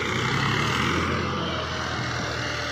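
Tractor driving across a prepared field bed of sandy soil, pressing and compacting it; a steady, loud engine drone runs throughout without pause, broad and continuous like a nearby motor.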